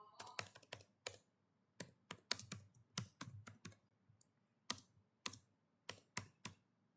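Keystrokes on a computer keyboard while code is typed for a programming exercise: close, crisp clicks in irregular bursts and short pauses, with no voice.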